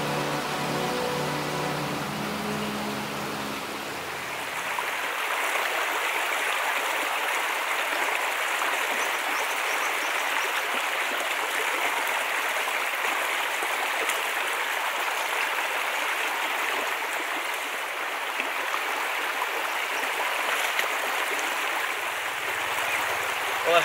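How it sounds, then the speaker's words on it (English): South Pine Creek flowing steadily among massive pine trees, a continuous broadband rush of water that sounds close and fills the scene without pause, with no voices. "South Pine Creek"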